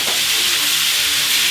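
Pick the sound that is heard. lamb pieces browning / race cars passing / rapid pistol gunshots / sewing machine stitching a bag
lamb pieces browning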